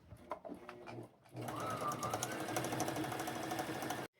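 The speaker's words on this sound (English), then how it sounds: "So I'm fixing to sew these." A sewing machine straight-stitches sheet fabric. A few handling clicks and taps come first, then a steady, close motor whir with rapid needle chatter runs for nearly three seconds and stops abruptly.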